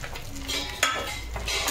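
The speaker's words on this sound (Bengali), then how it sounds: "ভালো করে ভেজে নেব রসুনটা মাছের মধ্যে।" Garlic fries with fish heads and bay leaf in hot oil, a close continuous sizzle with a sharp metal utensil clink against the pan partway through.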